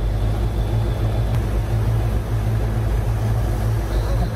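A Ford engine with a recurved stock distributor idles at 41 degrees of advance, making a loud, steady, close low rumble that runs unbroken throughout.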